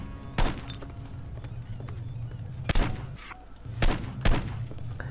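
Gunfire in the Hitman video game: a few sharp, loud shots ring out at irregular intervals over a low game ambience, with no talking.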